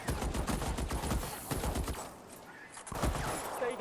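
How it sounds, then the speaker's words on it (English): Rapid bursts of video game gunfire from an LA Noire shootout crackle in dense volleys, pausing briefly before another burst starts up near the end. "that guy's been shooting at me"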